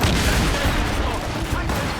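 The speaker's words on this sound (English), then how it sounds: "Ready to fire! Ready to this right there, sir! Fire! Cannon! Fire!" Naval cannon volleys in Assassin's Creed Rogue, a dense, loud barrage of overlapping booms and blasts filling the whole stretch with no pause, heavy low-end rumble, probably with shouted orders buried underneath.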